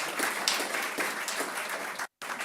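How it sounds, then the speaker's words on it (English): An auction room crowd claps for the underbidders, a moderately faint, even round of applause from a modest group that continues steadily with a brief dropout near the end. "my underbidders deserve a huge round of applause"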